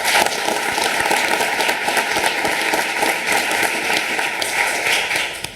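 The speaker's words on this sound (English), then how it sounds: "I'm going to give her a round of applause." An audience at a school district town hall claps for an introduced guest, a dense, even roll of many hands that holds steady and then tapers off at the very end.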